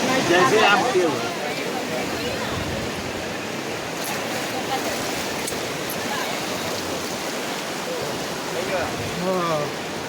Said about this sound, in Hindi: पानी का फ्लो इतना ज़्यादा है कि आप नहीं देख सकते हो चेन कहाँ तक है